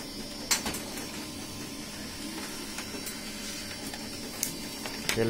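An HP LaserJet 1522nf printer runs a self-test page with a steady whirring mechanical hum, faint clicks and rattles on top, close by and with no talking.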